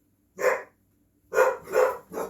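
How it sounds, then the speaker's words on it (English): Dogs bark four times: one sharp bark, a pause, then three quick barks in a row, clear and moderately close. "And now the dogs are barking."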